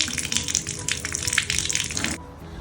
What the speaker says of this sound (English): Cold water, hot water, trickle.